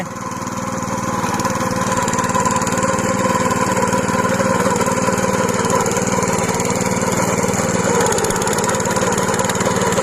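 An autopilot rotary tiller churns through overgrown grass, its small engine droning loud, close and steady without a break from start to finish.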